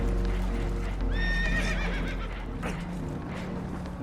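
Spooked horses whinny loudly in Red Dead Redemption 2, aboard a damaged boat taking on water, with a clear neigh, hoof clatter and rushing water noise underneath.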